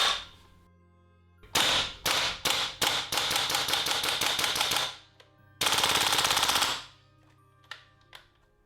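A WE G36 gas blowback airsoft rifle fires several single shots, then sustained rapid bursts, each crack sharp and loud, with pauses between bursts and a few faint clicks after.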